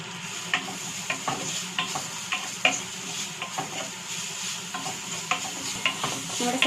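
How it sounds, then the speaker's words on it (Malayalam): Onions sautéing in a pan with salt, a continuous sizzle broken by regular stirring scrapes and clicks of a spoon roughly every half second, close up and without talk. "നമ്മുടെ സവോള ഇപ്പോൾ നന്നായിട്ട് വഴന്നിട്ടുണ്ട്."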